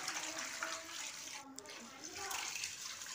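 Running water from a tap splashes steadily over a fish being cleaned of its scales, a continuous close hiss and spatter with brief shifts in flow.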